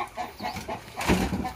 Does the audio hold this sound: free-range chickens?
yes